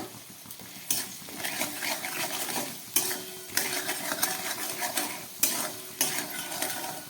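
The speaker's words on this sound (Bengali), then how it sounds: "খুব ভালো করে ভেজে নিচ্ছি।" Steady sizzling as potatoes stir-fry in a pan with a little salt and turmeric, with repeated scraping and stirring strokes and occasional sharper clacks of a utensil against the pan.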